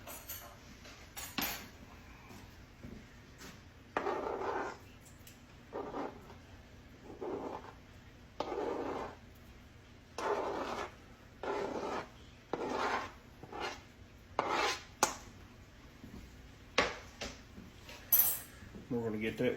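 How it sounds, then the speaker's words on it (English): Browned sausage goes back into a pan of sausage gravy and is worked in, with a series of separate rasping, scraping strokes of a utensil on the pan, close and fairly loud, with quiet gaps between them. "So I'm going to add the sausage back to this."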